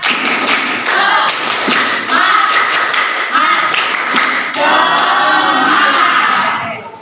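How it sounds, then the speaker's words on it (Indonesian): A school class performs rhythmic 'tepuk semangat' spirit clapping, loud patterned claps and thumps in quick sequences with children chanting and shouting along between the beat groups. "kita tepuk ya, tepuk semangat dulu. Nah, 2 kali tepuk semangat."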